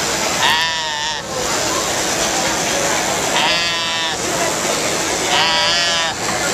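A sheep in a video game bleats three times at evenly spaced intervals, each a wavering, nasal call standing out clearly over a constant hiss of background game noise.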